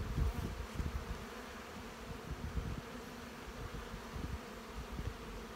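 Dense, steady buzzing of many honey bees at an open hive during an early spring inspection, close and continuous with no talk.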